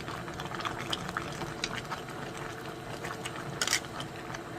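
Buttered seafood bubbles steadily in a small frying pan about to overflow, a continuous soft boiling and sizzling hiss with occasional brief spatters and clinks, close up with no voices.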